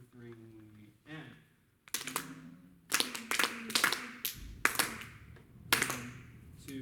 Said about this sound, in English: Let's clap the rhythm of 5 first.